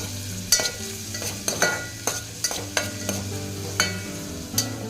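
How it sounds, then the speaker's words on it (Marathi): Finely chopped onion sautés in hot oil in a pot for chicken soup, a steady close sizzle broken by several sharp scraping stirs at irregular intervals, with no voices. "एका पातेल्यामध्ये तेल छान असं गरम करून त्याच्यामध्ये जो बारीक चिरून ठेवलेला कांदा होता तो छान असा गुलाबी"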